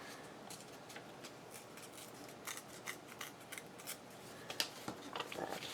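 Book page paper being torn by hand while altering a file folder booklet, heard as a run of short, close, crisp ripping bursts with brief pauses, quiet and without talk.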